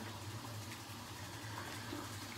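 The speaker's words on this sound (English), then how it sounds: "Rinse the hands off, get the face cloth." Tap water runs steadily from a faucet while hands are rinsed at a sink, a continuous close splashing wash with no talk.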